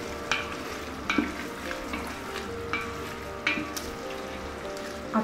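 Chicken karahi fries with beaten yogurt in the pan, making a continuous close sizzle broken by periodic clinks and scrapes of stirring.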